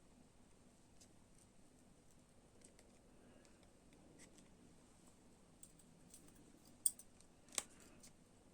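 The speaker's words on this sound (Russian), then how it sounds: "Обрезаем лишний скотч." Scissors snip through excess adhesive tape while finishing a handmade toy, a couple of sharp close cuts over a quiet room background.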